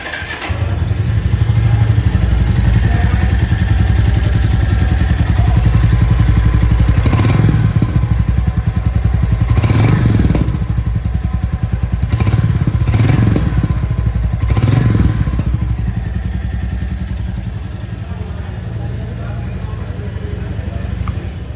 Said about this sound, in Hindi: बाइक का साउंड भी अभी सुना दूंगा।